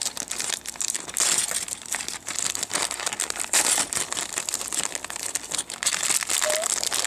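Plastic Lego Bionicle hero pack packaging being torn and opened by hand, with continuous close crinkling and crackling, sharp rustles and tearing bursts alone throughout.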